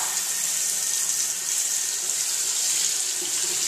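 Water runs steadily from a bathroom tap, a continuous hissing rush that stays even and close throughout with no voices over it.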